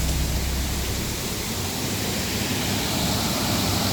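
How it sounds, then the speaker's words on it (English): Steady broadband rush of a waterfall spilling over a small hidden weir or dam, a continuous even roar close by with no talking. "This waterfall, anyway."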